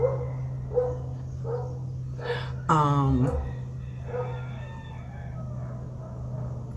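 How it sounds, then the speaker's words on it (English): A rooster crows once, fairly close, over a steady low hum, with faint distant barking and other bird calls before and after, in Medellín, Colombia. "I'm sure you can hear the roosters."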